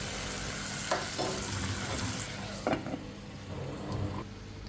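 Mashed plantain curry being stirred in a pan, a continuous close sizzle and bubbling with a few soft scrapes of the spoon.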